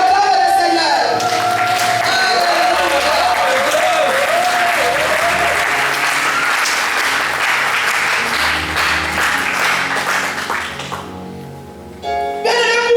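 A church congregation applauds loudly and continuously at a French-language Sunday service, dense clapping close by that carries on for several seconds with a singing voice above it before fading near the end.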